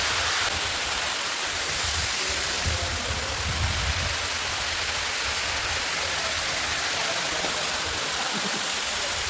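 Water plunges some 200 to 300 metres at the Saleshwaram waterfall, heard as a constant, dense roaring rush that holds steady throughout with no other sounds.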